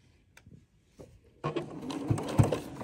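A sewing machine stitches fabric and pins for a fabric art piece, starting after a few soft taps and then running in a steady close mechanical whir with rapid needle patter.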